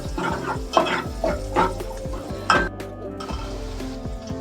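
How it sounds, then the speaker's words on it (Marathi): Onion frying in a pan for Malvani chicken, with a steady sizzle under repeated stirring and scraping clinks of a spoon against the pan, close and moderately loud. "आता कांदा चांगला थोडा भाजू दे"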